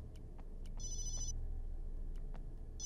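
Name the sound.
telephone ringing in the video game Obscure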